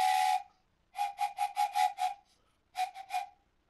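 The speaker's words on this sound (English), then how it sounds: "heard the train coming" Steam train whistle sounding as the train approaches, a long blast followed by a rapid series of short toots and then three more short blasts, loud and clear with no talk.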